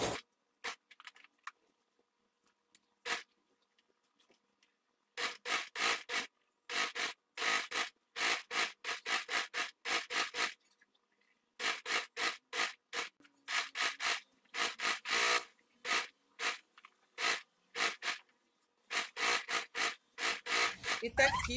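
A sewing machine stitches along the side of a fabric trim channel for a ruffled dish towel, running in rapid bursts separated by pauses, loud and close.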